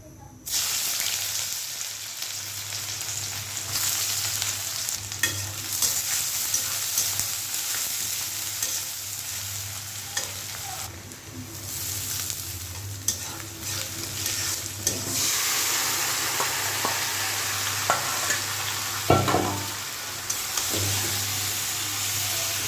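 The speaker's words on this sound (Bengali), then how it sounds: "এই যে পেঁয়াজ ভাজতেছি তরকারির জন্য" Onions fry in a pan for curry, giving a steady sizzle with repeated scrapes and clinks of stirring across a long stretch under a constant low hum.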